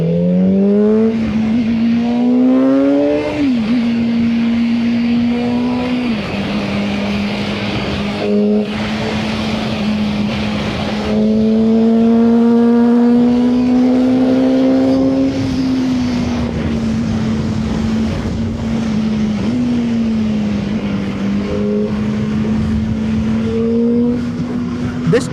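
A Voge RR 500 S motorcycle ridden hard in sport mode on mountain roads, engine droning loud and close, revs rising and falling through gear changes with wind rush underneath.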